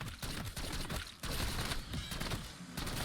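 Rapid SMG shotgun fire in Black Ops 6 Zombies, blasting a Terminus boss: a loud, dense, continuous stream of overlapping gunshots with no pauses for the full stretch.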